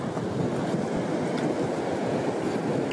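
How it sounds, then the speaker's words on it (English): Strong wind buffets a microphone at the seashore, making a constant roaring rush with gusty bursts throughout. Surf is faintly blended in, and no one speaks. "I don't know if you can hear that wind howling through the microphone."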